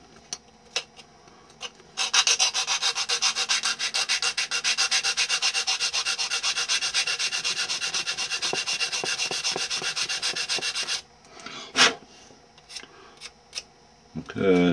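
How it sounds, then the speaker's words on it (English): A belt sander grinds steadily along wooden edges for about nine seconds, a loud continuous rasping with faint scrapes and brief handling clicks before and after. "Go ahead and sand that up a little bit."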